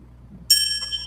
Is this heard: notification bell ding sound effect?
yes